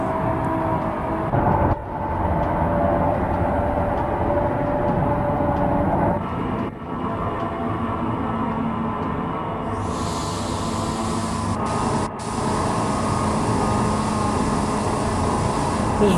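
Interior of a New York subway A express train running between stations, a continuous loud rumble and whir of wheels and motors with a sharp hiss or screech entering near the end.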